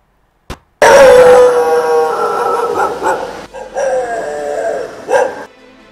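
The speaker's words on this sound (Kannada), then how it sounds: "ನಗರದಲ್ಲಿ ಹೆಚ್ಚುತ್ತಲೇ ಇದೆ ಬೀದಿ ನಾಯಿಗಳ ಹಾವಳಿ." Several stray dogs barking and yelping close by on a city street in Bengaluru, a loud sustained chorus with howling tones that drops briefly and flares again.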